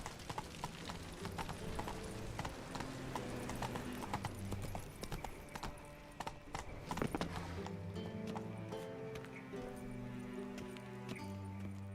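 Galloping horse hooves in The Witcher 3 video game, a rapid continuous clip-clop rhythm over layered game music, with a brief whinny-like burst midway.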